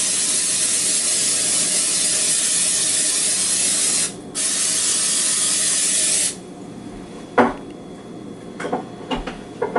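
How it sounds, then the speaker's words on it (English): Cooking spray hisses in a steady, loud continuous burst onto a baking pan for several seconds, with a brief pause midway, before giving way to a few light clinks and handling noises. "So I'm going to spray it with cooking spray."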